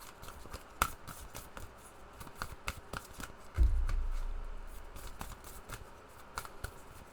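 A deck of tarot cards being shuffled, heard as a run of crisp close riffles and snaps with a louder thump partway through, quiet and without talk.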